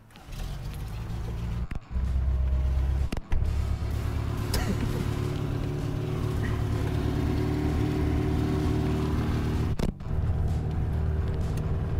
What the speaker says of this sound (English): me and Dennis have decided to go for a test drive